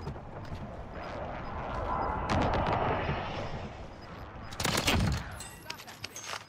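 Video game gunfire rings out in two loud bursts of rapid shots, mid-clip and near the end, over a background of murmuring and shuffling, with occasional single sharp cracks trailing off afterward.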